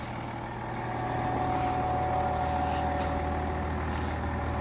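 A Range Rover L322 with the TD6 diesel engine runs steadily, a close, continuous low rumble with a smooth, even drone throughout and no voices.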